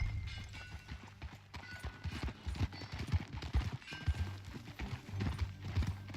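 Horse hooves clip-clop at a steady riding pace in Red Dead Redemption 2, a continuous rhythmic patter of hoofbeats with faint game ambience and no talk over it.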